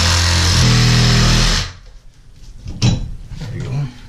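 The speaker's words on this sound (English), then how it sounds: "I'm just gonna chop it off." A reciprocating saw cuts off a shower valve behind a fiberglass wall during a demolition job. It runs loud and steady for about a second and a half, then stops abruptly, and people talk afterward.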